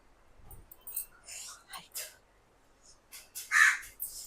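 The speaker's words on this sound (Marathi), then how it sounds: "कावळा ओरडायला लागलाय." A crow cawing outdoors in a family home setting, several short harsh calls scattered across the moment, fairly faint and distant, with soft whispery voices in between.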